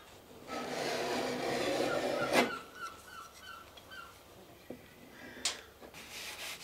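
Scraping away wood on a clinker boat plank makes a soft, continuous rasping stroke that swells and fades, followed by a couple of sharp knocks and faint workshop noise.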